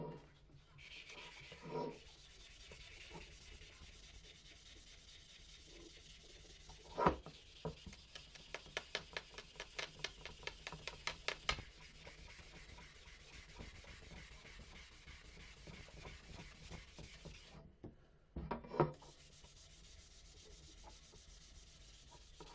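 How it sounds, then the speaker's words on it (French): Hand sanding of a pot to remove small stains, with a soft, steady rasping rub that turns into a run of quick rhythmic strokes midway, close and fairly faint. "faut plus poncer encore."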